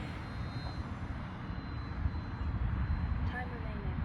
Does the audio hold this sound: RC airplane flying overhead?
yes